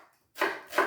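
A kitchen knife chops an onion roughly on a board with two sharp, close chops about a third of a second apart, following a near-silent pause.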